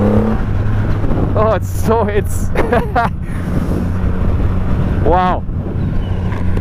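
A Triumph Rocket 3 motorcycle with its 2500cc engine drones loudly under heavy wind buffeting, its pitch shifting as gears change by hand, while a rider exclaims over it.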